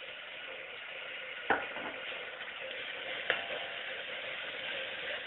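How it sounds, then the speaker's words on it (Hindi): Ginger garlic paste frying in a pan while making chana dal tadka, a steady broadband sizzle throughout with two brief sharp clinks of a utensil against the pan. "अब इसमें अदरक लहसुन का पेस्ट डाल देंगे।"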